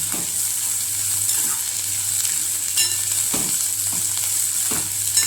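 Carrots and sweet corn frying in a pan for a leftover chapati breakfast, with a steady bright sizzle and intermittent spatula scrapes and stirs.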